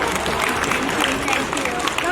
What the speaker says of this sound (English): Audience, please clap for all the winners.